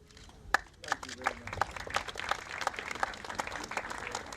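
Scattered audience claps build into looser, moderate applause at an event launching a school's Vision 2030 plan, starting with a single sharp clap and growing into an uneven patter with some voices mixed in.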